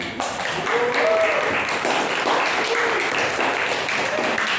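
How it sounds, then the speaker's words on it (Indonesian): Audience clapping at the close of a talk, a steady crowd applause that continues throughout, with faint voices calling out over it. "Tepuk tangan dulu untuk kita."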